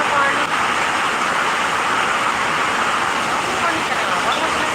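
Steady rain pours down during a storm with a power cut at home, a dense unbroken hiss that stays loud and even throughout, with no talking.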